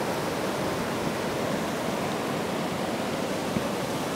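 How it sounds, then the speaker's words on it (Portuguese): Steady, close rush of falling water from the Rasga Saco waterfall in Serra da Canastra, a modest drop into a large pool, forming an unbroken broadband roar with no voices. "Eu tô aqui na Cachoeira Rasga Saco."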